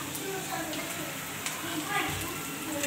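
Onion frying in oil in a pan on the stove, a steady soft sizzle running throughout with faint crackles, close and continuous while a person talks over it.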